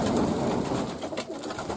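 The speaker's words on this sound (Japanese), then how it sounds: "外に出てきた鳩もまだ飛び上がらないですね。" Pigeons coo steadily at a loft on a dark, overcast day with a light north wind, a dense overlapping chorus of low throaty calls that stays loud up close and dips slightly toward the end.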